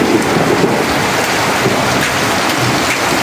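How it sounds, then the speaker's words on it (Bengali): Heavy rain pours down in a loud, dense wash of noise, with a low rumble of thunder rolling underneath during a storm with frequent lightning. "বৃষ্টি হইতেছে, এটা রহমত আল্লাহর।"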